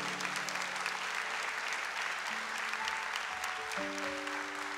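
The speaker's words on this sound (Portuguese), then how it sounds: "Pode aplaudir o seu irmão que está do seu lado." Congregation at a Brazilian church sermon applauds steadily in a continuous wash of clapping, while sustained keyboard chords play softly beneath and shift pitch partway through.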